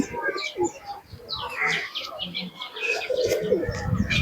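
A pair of young domestic pigeons, teddy pigeon chicks, coo softly in a soft throaty murmur close by, with a few chirps, while voices talk nearby.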